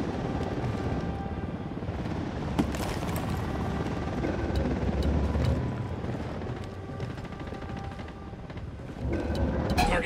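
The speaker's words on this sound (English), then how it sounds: "Helicopter inbound." A helicopter flies in within the video game Ghost Recon Wildlands, its rotor a continuous, loud, rumbling drone that holds steady throughout.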